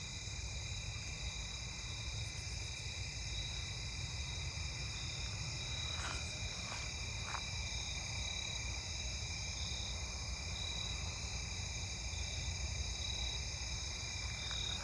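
Two-spotted tree cricket trilling outdoors in a neighbourhood at night, a steady high continuous buzz mixed with other insect song, faint and distant, with a few brief clicks partway through.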